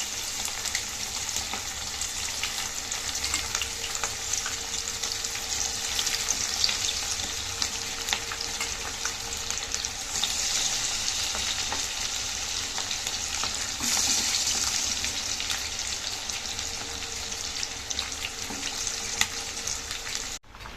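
Chicken lollipops fry in oil over a low flame, giving a steady, crackling sizzle that runs continuously for about twenty seconds with small pops and bursts of spattering.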